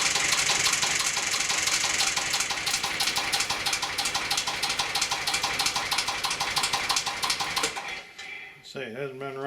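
An engine that has sat unused for about six months cranks and runs steadily with a busy, knocking mechanical clatter, close and loud, before cutting off near the end as a brief sound follows.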